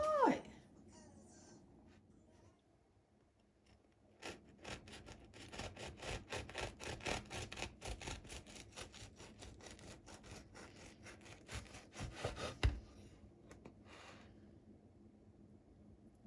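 A knife saws through a freshly baked, cooled no-knead soft bread loaf, quiet rhythmic rasping strokes repeating for several seconds after a short lull, then fading away.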